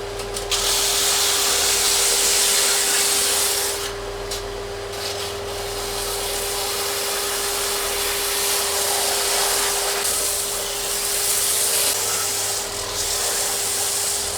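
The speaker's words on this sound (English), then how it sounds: "once we've got it through the belt sander, that's going to clean up really nicely" A belt sander grinds a glued laminated wooden bow of ash, purpleheart and hickory, giving a loud continuous rasping roar over a steady motor hum, with the pitch of the rubbing shifting slightly as the wood is moved, and no talking.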